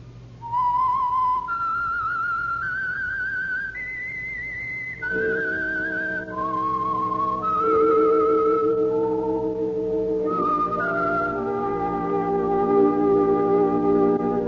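A whistled radio theme melody of clear sustained notes rising and falling in steps, played alone over a soft backing of low instrumental tones.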